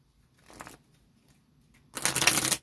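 Love oracle cards are shuffled in two short bursts, a faint brief riffle followed by a louder, crisper shuffle, with no talking.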